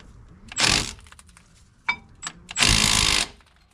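A cordless brushless Milwaukee M18 Fuel impact wrench fires on the brake bolts of a Chevy truck in two loud, close bursts, with some clinks and small knocks between them.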